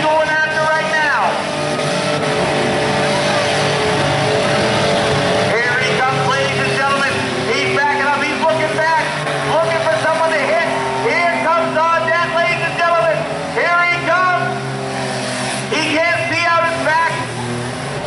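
Demolition derby cars rev and grind in the arena, with engines roaring continuously and loudly. An announcer talks excitedly over them throughout.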